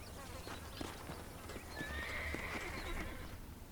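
In the video game Red Dead Redemption, horses whinny and neigh over soft clip-clopping hooves, the sounds fairly quiet and blended into the game's ambient background.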